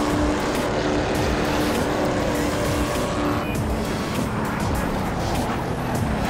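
Racing car engine in the Assetto Corsa racing game, driven with a Thrustmaster wheel, roaring loud and continuous with dense road and tyre noise throughout, easing slightly partway through.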